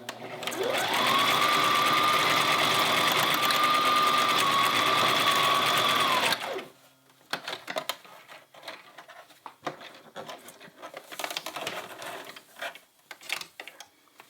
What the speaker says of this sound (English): we're gonna go back and forth on our sewing machine to get it in place